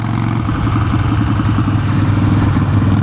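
A Harley-Davidson Nightster motorcycle engine runs steadily up close, a loud, rough, lumpy throb with a pulsing low rumble and mechanical clatter, continuous throughout with no talking.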